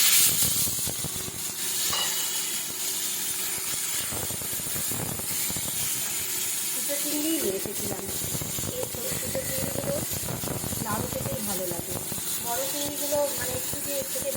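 Small prawns coated in oil, salt and turmeric are lightly fried in hot oil, making a continuous loud hiss and spatter that runs throughout.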